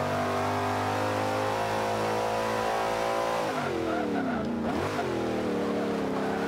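Ford Mustang, rear-wheel drive, in the racing game Forza 5, holding a loud steady engine drone, then dipping and climbing again as the gears change, with a brief tire squeal.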